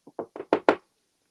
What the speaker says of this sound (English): the wolf arrived at grandmother's house, and he knocked on the door